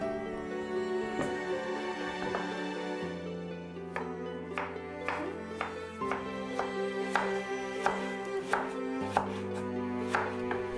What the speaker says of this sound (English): Also cut it into thin slices.